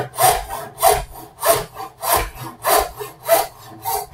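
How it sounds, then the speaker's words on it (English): A hand saw cuts through a wooden joint on a Christmas crib project in steady back-and-forth strokes, about seven rasping passes at an even rhythm, close and clear. "And a few saw cuts there just to get that joint removed."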